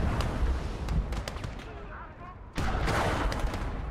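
Tank cannon shots in the World War II strategy game Call to Arms: Gates of Hell, booming through a dense, continuous battlefield din, with a louder burst of fire partway through and a voice talking over the action.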